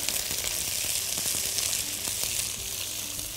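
Grilled corn kernels sauté with a small spoonful of olive oil in a pan, giving a steady, close sizzle with faint stirring clicks throughout and no talking.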